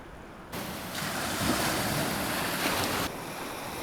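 Surf washing onto a beach at a coastal wild camp, a steady broad rushing wash that swells louder for a few seconds then eases back, with wind over the microphone and no voices.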